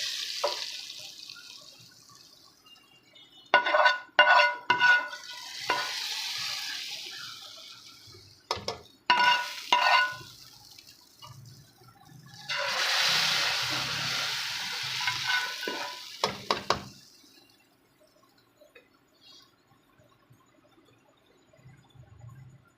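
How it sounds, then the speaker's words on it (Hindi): Cumin tadka poured into a pot of dal makhani, with loud sizzling bursts and spoon stirring in uneven waves, then quieting to faint scraping toward the end. "अब इसके अंदर हम तड़का ऐड कर देंगे।"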